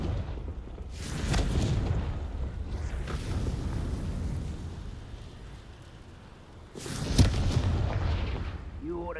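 Confringo fire spell blasts in Hogwarts Legacy, heard as two broad booming explosions, one near the start and a louder one later, over a continuous rumbling game soundscape.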